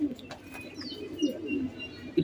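A pair of pigeons, a male and a female offered for sale as fancy racer highflyer birds, coo softly in low repeated phrases at close range, with a few faint chirps above and no voices.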